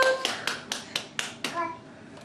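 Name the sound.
toddler clapping hands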